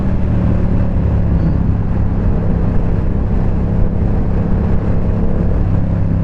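A Yamaha MT-07 motorcycle accelerates hard with the front wheel lifting, a loud continuous low engine roar heavily mixed with wind buffeting on the microphone, steady throughout with no talk.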